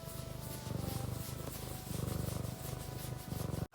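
A cat purrs while being stroked, a close, steady rhythmic rumble pulsing with each breath for several seconds, with soft rubbing of fur and no talking.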